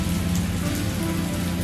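Heavy rain pours steadily onto a surface, a dense, continuous hiss and patter held at an even level throughout with no voices.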